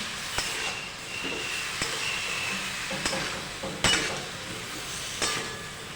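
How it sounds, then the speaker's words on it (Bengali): Masala with a splash of water is stirred in a pan for a vegetarian eggplant curry, giving a soft sizzle and scraping under several sharp clinks of the utensil against the pan at irregular intervals. "এবার খুব সামান্য একটু জল দিয়ে আমরা এটা নাড়াতে থাকবো, যাতে মশলাটা না নিচ থেকে ধরে যায়"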